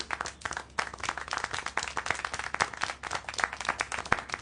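Sparse clapping by a single character in the video game Syberia: The World Before, a steady series of sharp, fairly close hand claps with no talk over them.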